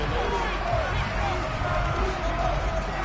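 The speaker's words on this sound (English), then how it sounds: "Plenty of shouts from this crowd as they watch the replay." A football stadium crowd fills the air with a dense, continuous wash of shouting and murmur during a replay, steady and loud throughout with no clear breaks, heard from within the stands.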